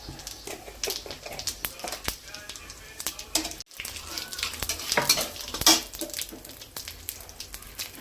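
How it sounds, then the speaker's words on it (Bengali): Bay leaves and whole cumin sizzle in hot oil, crackling and spitting up close in uneven bursts with clicking utensil taps and a voice speaking over it. "দুটো তেজপাতা দিব গোটা জিরে সম্বার দিলাম"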